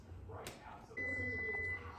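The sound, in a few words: kitchen timer going off while pasta boils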